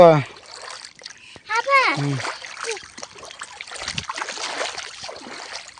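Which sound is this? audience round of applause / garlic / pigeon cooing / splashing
splashing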